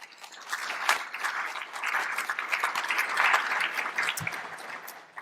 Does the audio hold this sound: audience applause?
yes